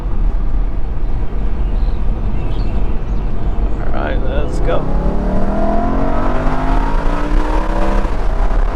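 A 2013 BMW M3 Competition Package engine accelerates, a loud rising drone with climbing harmonics inside the cabin, heavy road rumble beneath, and someone speaking briefly over it.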